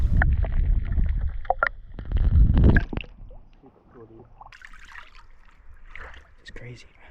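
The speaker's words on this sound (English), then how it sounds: "there's a lot of air pockets in my attachment and it's just draining and it gets distorted in the water" Water draining through air pockets in a submerged attachment, sounding distorted underwater with muffled gurgles and rumbling bursts, loud at first, then fading to quieter bubbling and faint trickles.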